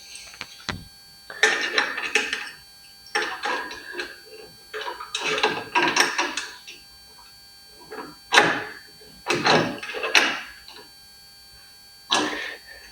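Close, irregular ratcheting clicks and scraping bursts from tightening horn mounting nuts on a plastic mount inside a Factory 5 Racing Roadster, coming in short rhythmic runs separated by quiet pauses.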